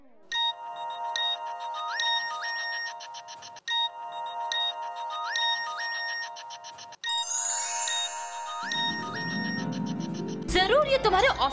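A phone ringtone plays a repeating melodic jingle several times with brief gaps, then a louder burst of sound cuts in at the end, in a Hindi TV drama scene.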